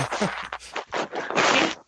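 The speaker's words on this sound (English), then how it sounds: "Sounds like your phone's in your pocket." Muffled rustling and shuffling of a phone moving around inside a pocket, coming in several scraping bursts of fabric friction up close, with no talk over it.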